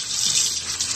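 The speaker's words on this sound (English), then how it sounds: "You want to always rinse your noodles in cold water so that they don't stick together" Cold tap water runs steadily over freshly boiled macaroni noodles being rinsed in a strainer, a continuous, fairly loud hissing gush with no voices.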